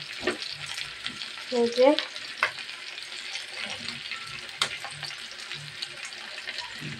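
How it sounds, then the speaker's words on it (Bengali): Hilsa fish pieces rubbed with turmeric and salt sizzle and crackle in a hot pan, with a soft continuous frying hiss and a brief clatter, and a voice says a few words over it. "জাস্ট একটু কেচে ইলিশ মাছগুলো ভাজলাম"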